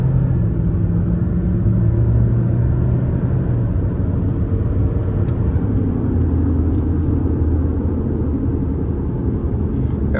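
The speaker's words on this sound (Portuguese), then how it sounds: "Ó, a arrancada dele é muito legal." A 2021 Fiat Toro Ranch 4x4 diesel pickup accelerating, heard as a loud, steady low engine rumble and road noise from inside the cab, with no talking.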